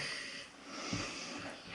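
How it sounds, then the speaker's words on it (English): A noisy dog grumps and snorts close by, making soft, breathy huffs and snuffles with one brief, sharper snort midway, all quiet and without talk. "I have a noisy dog, which a lot of you know."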